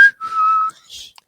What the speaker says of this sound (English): And also, I'm sorry for whistling.